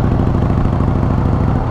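A Harley-Davidson Fat Boy motorcycle on its first ride gives a steady, loud, close engine rumble with a continuous low throb and no break.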